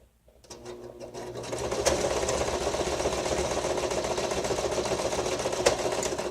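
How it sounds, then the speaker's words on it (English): A sewing machine runs steadily, close and loud, stitching sari silk across the top of a paper book-page pocket booklet, its motor hum and needle rattle continuous for several seconds after a brief start. "I'm going to quickly stitch on some of this sari silk just across the top there"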